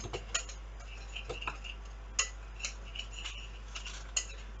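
A big metal spoon stirring a mixture in a bowl for apple pie, producing sparse light clinks and taps at irregular intervals, close and fairly quiet.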